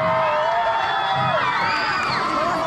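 A crowd at a community basketball event cheers and shouts loudly, with high whoops and voices of children and adults swelling together in a dense, continuous roar.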